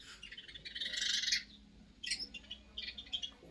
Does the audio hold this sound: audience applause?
no